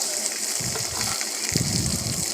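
Pork fries dry in a kadai with no oil, giving a steady hissing sizzle with occasional louder bursts and faint stirring noises.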